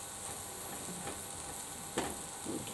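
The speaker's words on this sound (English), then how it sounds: "I'm just breaking up some of those rice particles" Rice fries in a pan with a soft, steady sizzle, broken by a few scraping stirs of a utensil that loosen and break up the grains; quiet and close.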